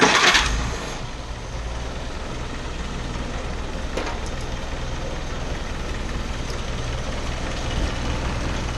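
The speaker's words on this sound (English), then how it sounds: "Now it's time to start the motor and get things moving." A motor being timed without a timing light starts with a brief burst, then settles into a steady, low, continuous idle drone heard up close.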